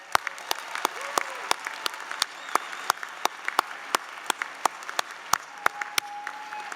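Scattered applause from a convocation audience in a hall, light and uneven with sharp individual claps standing out over a thinner continuous patter.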